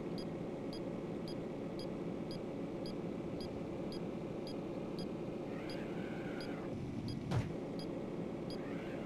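A racing car's engine drones in the 1994 video game The Need for Speed during a head-to-head drive with an Acura NSX. It gives a steady, constant roar and has one brief sharp knock near the end.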